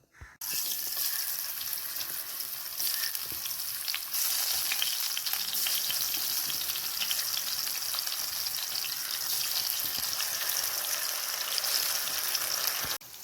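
Masala-coated eggplant pieces fry in hot oil, a loud steady sizzle that starts abruptly and holds evenly, with a few faint clicks and no voices.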